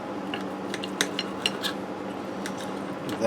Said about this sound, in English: Let me get in here and cut into this chop so you can see how it looks.